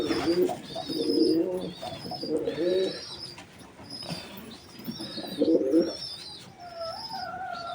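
A giribaz pigeon coos nearby in repeated soft, throaty phrases with short pauses between them, with no talking.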